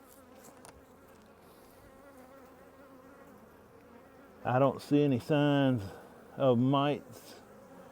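Honey bees buzzing steadily around an open hive during a full spring inspection, a low continuous hum under a voice speaking in short bursts near the end.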